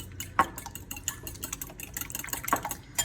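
Buttermilk and two eggs beaten in a bowl for a lemon berry cake, a close, steady scraping and stirring with a couple of sharper clinks of utensil against the bowl.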